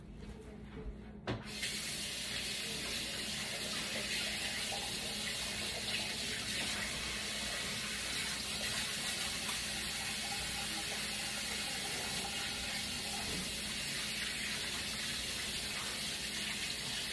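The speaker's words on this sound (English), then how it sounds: "I'm gonna wash my hands real quick" A kitchen tap runs steadily for handwashing, a continuous loud hiss of water splashing into a sink that starts abruptly after a brief quiet moment and carries on unbroken.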